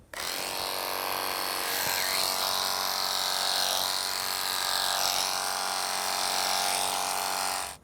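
Electric clippers hum in a steady, close buzz as they trim a market goat's coat, the motor pitch dipping and rising slightly with each pass, running alone without talk from start to finish.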